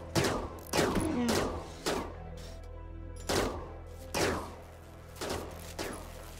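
Gunfire from the RimWorld video game: about nine sharp, separate shots cracking out at uneven intervals, each fading with a short ringing tail.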